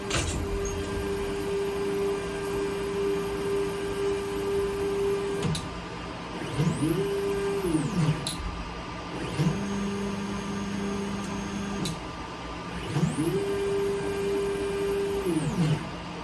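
A Core XY 3D printer with an MKS Robin Nano v3 board homes its axes, stepper motors whining in rising and falling sweeps over a constant hum, with a rattling vibration from loose parts, close and without talk.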